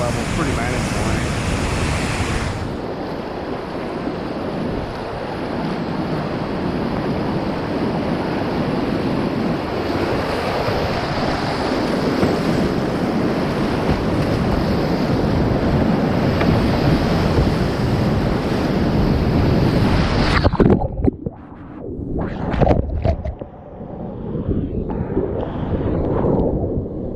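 Whitewater on Overflow Creek in Georgia rushes loudly and steadily as a broadband roar, with wind buffeting the microphone, until the roar breaks up near the end into uneven splashes and gusts.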